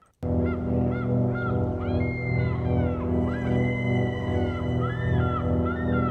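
Loud, continuous honking squawks from a bird, repeated in rapid succession over a droning background after an abrupt start.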